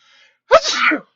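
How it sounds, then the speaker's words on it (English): A single loud, close sneeze with a sharp onset, preceded by a faint breathy intake. "I think I'm about to sneeze."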